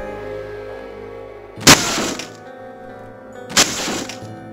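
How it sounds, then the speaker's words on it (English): Two loud, sharp shotgun blasts a couple of seconds apart from Deadly Premonition, each blowing objects apart with a cracking, splintering burst over a low steady game hum. "Let me see if I can blow them apart with my shotgun more easily."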